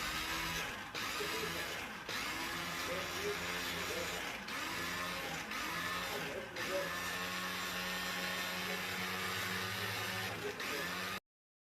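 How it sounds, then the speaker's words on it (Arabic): An electric blender grinds peppers into a smooth puree for a chicken sauce, a steady loud motor whir running continuously with a few brief dips in pitch as the contents shift. "ويلا بقى الطحن كده جامد جدا جدا جدا زي ما انتم شايفين كده"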